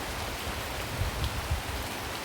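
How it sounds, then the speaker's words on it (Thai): Light rain falls steadily on ornamental flowering plants in northern Thailand, a dense, even hiss of drizzle with faint scattered drips and no voices. "ฝนย้อยมาแล้ว ฝนโปรยปลายนะคะ"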